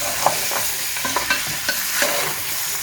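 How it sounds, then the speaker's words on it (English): Boiled lamb meat stir-frying with fried onions in a family pot, a steady close sizzle with scattered scraping stir strokes throughout, no talk. "We'll add the boiled meat here."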